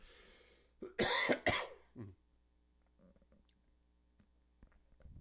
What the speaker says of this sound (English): I'm sorry, you get the cough here.